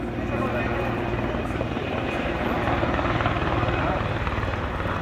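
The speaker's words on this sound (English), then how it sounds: "Oh, there's the other helicopter." A helicopter flies overhead during hurricane relief in rural Puerto Rico, its steady rotor chop and engine drone loud and constant throughout.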